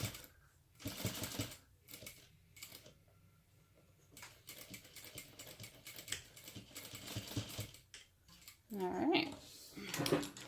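Sewing machine running a final top stitch in short bursts of fast, rhythmic needle clatter separated by pauses, fairly quiet and close, with a brief squeaky whirring near the end.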